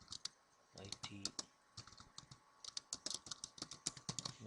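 Rapid keyboard typing on a computer while entering items into a Java GUI form, with close, crisp key clicks in uneven bursts and short pauses throughout.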